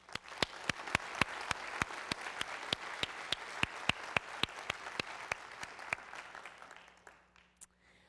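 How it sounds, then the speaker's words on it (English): An audience applauds at an academic lecture on ancient Roman and American slavery. Steady crisp claps ring over a dense wash of clapping that holds for about seven seconds, then thins and dies away. "Please join me in giving all of them a round of applause."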